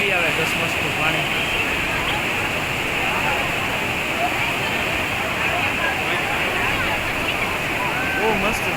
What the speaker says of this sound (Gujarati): ત્યાં જો નદી હેલી આવે, ધસમસતું પાણી.